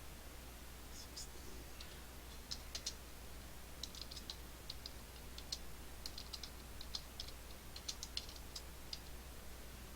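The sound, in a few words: typing an address on a computer keyboard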